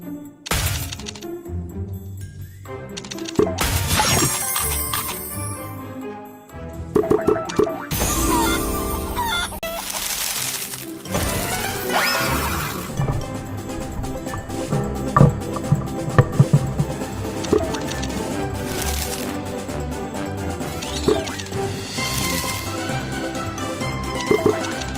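Busy electronic sound effects from a Merkur slot machine video game, loud and dense, with jingles, clucking and crowing rooster-like effects, clicks and chiming tones layered continuously throughout.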